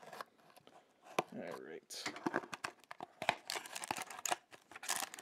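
Cardboard box being handled and opened, with crinkling, tearing and sharp cutting of packing tape in irregular close bursts, a person speaking briefly among the rustling.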